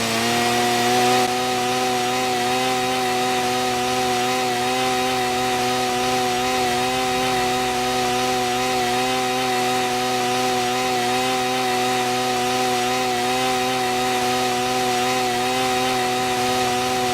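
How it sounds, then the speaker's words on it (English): A virtual chainsaw saws back and forth through a tree trunk in a VR forestry simulation, its steady, loud engine drone holding strong harmonic tones with small pitch wobbles throughout, no talking. "Please grab the chainsaw and follow the back and forth motion of the green orb."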